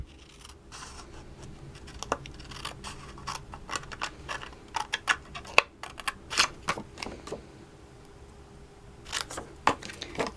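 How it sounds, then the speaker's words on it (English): Scissors cut paper in quick, irregular bursts of crisp snips, close by and with no talking. "Now you're going to take your scissors."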